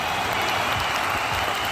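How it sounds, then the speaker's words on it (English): A short burst of applause sound effect, steady and fairly loud throughout, with no talking over it. "Give you a little applause real quick"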